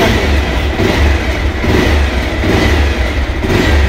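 A Bajaj Pulsar 220F motorcycle engine runs loud and close right after a self-start, a steady throbbing rumble with slight pulsing swells.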